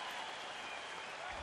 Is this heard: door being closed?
no